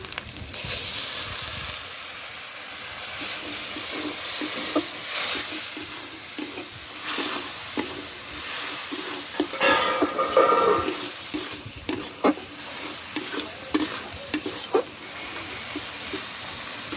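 Water poured into frying masala for a bombay duck curry hisses and sizzles loudly, a steady close frying roar with scraping stirs and crackles throughout, no voices.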